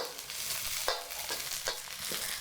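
Vegetables stir-frying in a pan for Indonesian glass noodles, a quiet sizzle broken by several spatula scrapes and tosses in an uneven rhythm, close by, without speech.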